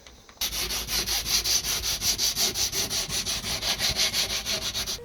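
Rhythmic back-and-forth sanding on a wooden sliding boat hatch, close and steady, with regular strokes repeating about four times a second throughout.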